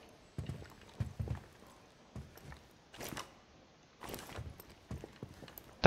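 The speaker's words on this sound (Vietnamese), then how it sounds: "Nghe tiếng chân." Footsteps in the Rainbow Six Siege video game come as a handful of soft, uneven thuds and shuffles, close and fairly faint, spread across several seconds with short louder bursts between them and no talk.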